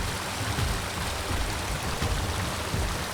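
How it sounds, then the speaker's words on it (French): Small mountain streams near the Pic du Midi d'Ossau run as a steady, close broadband rush of water, with occasional low splashy gurgles throughout and no voices over it. "Et là, regardez les petits ruisseaux et tout."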